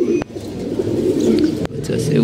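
Young pigeons cooing in a loft as birds bathe, a steady low burbling chorus close by with brief sharp knocks and splashy clatters breaking in twice.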